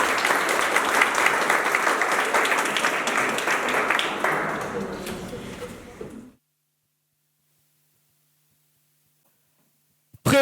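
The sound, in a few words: audience applause for debaters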